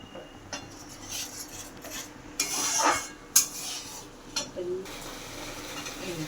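Spices for a potato kofta curry being stir-fried in oil, with a metal spoon scraping and clanking against the pan in irregular bursts over a faint sizzle, fairly quiet.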